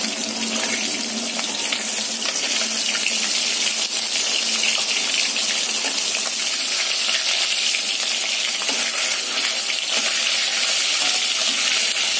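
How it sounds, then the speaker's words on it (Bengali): Fish frying in a pan in a home kitchen, a continuous bright sizzle and crackle that holds steady and fairly loud the whole time, with no talking. "এই হচ্ছে মাছ ভাজা চলছে"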